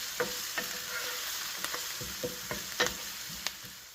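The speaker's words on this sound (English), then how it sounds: "I'm going to add about 3 cloves of garlic in there. Mix it up for about 20 or 30 seconds till we start smelling it." Three cloves of garlic sauté and sizzle steadily in a pan while a utensil scrapes and stirs, giving irregular clicks and knocks over the constant frying hiss; no talking.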